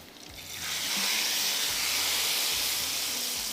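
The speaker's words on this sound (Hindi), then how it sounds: "अब ये तड़का जा रहा है दाल के ऊपर।" A loud, steady sizzle bursts in after a brief quiet start as hot tempering hits masoor lentils, hissing continuously without talk.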